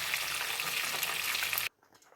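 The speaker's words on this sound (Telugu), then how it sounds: "కరివేపాకు వేసేసుకొని కూడా ఇలా ఆయిల్లో వేయించుకుంటే చాలా టేస్ట్ ఉంటుంది" Samosas with curry leaves sizzling in hot oil give a loud, dense, steady frying crackle for most of the clip, then it cuts off abruptly, leaving only faint quiet background.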